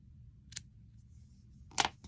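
Scissors snipping yarn on a crochet amigurumi project, two short sharp snips about a second apart, close and clear against near silence.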